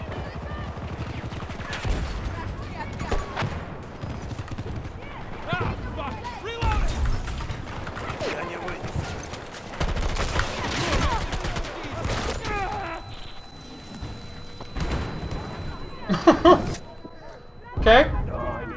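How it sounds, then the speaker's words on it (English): Battlefield 2042 combat with rapid gunfire bursts, grenade blasts and explosions piling up loudly and densely, while players talk over the chaos. "They are throwing so many grenades and explosives."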